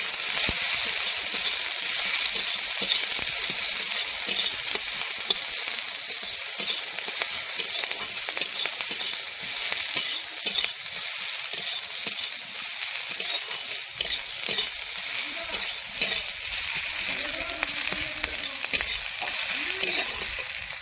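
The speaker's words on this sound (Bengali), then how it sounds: "পেঁয়াজ দিয়ে দিচ্ছি দিয়ে আমি ভালোভাবে নেড়ে নিচ্ছি" Onions and slit green chillies fry in oil in a pan with a steady loud sizzle throughout, while a spoon stirs and scrapes in close, irregular strokes.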